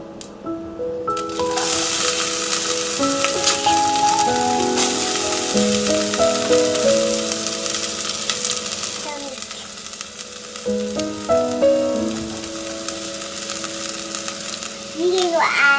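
Chopped onion sizzles steadily in a pan for kanda pohe, a loud, continuous frying hiss with occasional stirring, while music plays and someone speaks faintly in the background.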